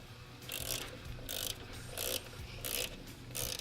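A ratchet and socket turn a bolt on the fuel pressure regulator of a 1994 Jeep Grand Cherokee, giving close, repeated bursts of rapid clicking in a steady back-and-forth rhythm.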